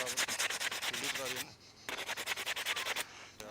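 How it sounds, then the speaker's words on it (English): Rapid rhythmic rubbing of sandpaper on a wooden smoking pipe, scratchy strokes in quick succession, close up, pausing briefly before resuming. "now we are sanding it and polishing it well"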